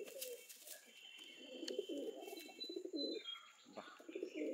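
Pigeons from Madras give low, throbbing coos in a continuous rolling stretch, quiet and nearby, with thin high chirps and a faint flutter near the end.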